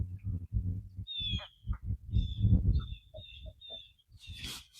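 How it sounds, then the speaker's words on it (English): On a lake during a fishing trip, an eagle and a pair of loons guarding their chick trade sharp, high squawks and calls back and forth, repeated in short bursts over low nearby sounds. "Got an eagle and a couple of loons protecting their baby, squawking back and forth in the background."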